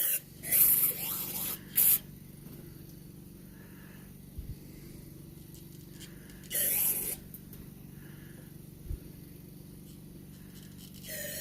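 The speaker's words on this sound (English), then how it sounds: "Now we'll rinse it out." Short hissing bursts of water spray rinse out a part of a Coleman 237 generator, close by, separated by quiet pauses, with a few faint knocks between them.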